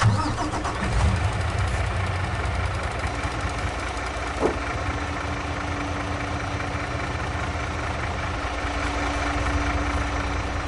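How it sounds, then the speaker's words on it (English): A truck engine in Farming Simulator 22 starts and settles into a steady, moderately loud idle, a continuous low mechanical hum with a faint knocking texture and no talking. "I'll probably let that truck run, just let that run, so it'll empty"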